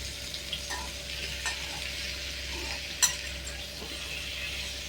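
Food sautés in a pan over a low flame in a home kitchen, giving a steady soft sizzle throughout, with a few light scrapes and clinks as it is stirred.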